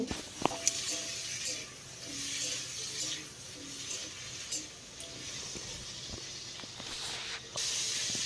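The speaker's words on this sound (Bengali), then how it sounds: "তো হালকা লালচে করে আলুটাকে ভেজে নিতে হবে।" Potatoes fry in oil with a soft, steady hiss and light crackling, and a few faint clicks break in now and then.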